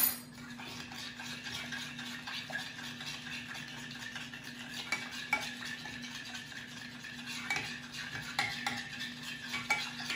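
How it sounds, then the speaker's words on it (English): Salt being stirred into a warm gelatin bath jelly mixture makes soft, repetitive swishing and faint clinks of a spoon against the container, over a steady low hum. "I'm going to add 1 teaspoon of salt and stir until it's completely dissolved"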